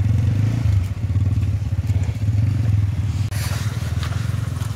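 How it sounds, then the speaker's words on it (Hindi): Loud, low chugging engine rumble of a TVS tractor passing close by, steady and throbbing, with rattling clatter layered on top. "अभी आ रहा है टीवीएस का ट्रैक्टर।"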